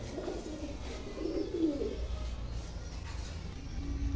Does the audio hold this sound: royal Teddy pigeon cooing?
yes